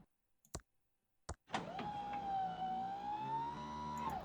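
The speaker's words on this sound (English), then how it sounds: "We just have silence. And the whirring of the machine." A steady mechanical whirring hum from a machine in the Thimbleweed Park adventure game, rising after a couple of short clicks and sustaining alone through the rest of the moment with a wavering tone.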